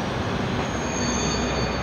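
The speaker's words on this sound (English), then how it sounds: "I arrived in Liege and this is the train station." A big, modern train station in Liège, Belgium, filled with a constant loud roar of rolling rail cars and a faint high squeal of train wheels, with no talking.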